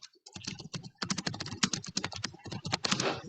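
Rapid, steady typing on a computer keyboard: a dense run of close, crisp key clicks with brief pauses, no voices.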